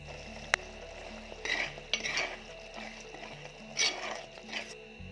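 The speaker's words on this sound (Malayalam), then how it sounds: "ചട്ടി ഒന്ന് നന്നായിട്ട് ചുറ്റിച്ചു കൊടുക്കാം" A pan of hot, sizzling fish curry masala with black pepper, swirled on the stove. Soft frying hiss and a few metallic scrapes and clinks come through over faint background music.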